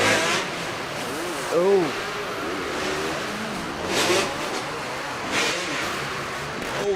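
Two-stroke racing motorcycles at an indoor race rasp and rev in short bursts, engines rising and falling under a steady crowd and announcer din, with a voice briefly exclaiming.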